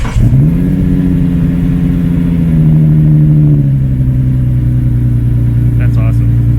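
A mid-1990s Ferrari F50 with a Formula One derived V12 rumbles loud and close, rises in a short rev and then settles back to a deep steady idle, with talk mixed in.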